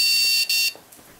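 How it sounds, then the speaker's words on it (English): A PetTech dog training collar set to beep mode gives two loud, shrill electronic beeps, the first long and the second shorter after a brief gap, close and alone. "The collar beeps."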